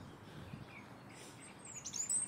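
Birds chirp outdoors, faint and distant over a soft background hush, with a few thin, high tweets near the end.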